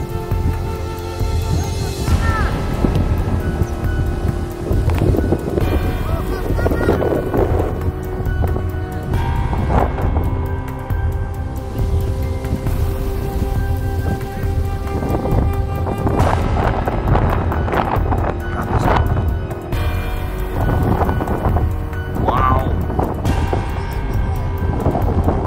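Strong wind gusts roar across a kite flying field where a large kite is pulled in a sky battle, steady and loud, with rumbling buffeting on the microphone and occasional voices underneath.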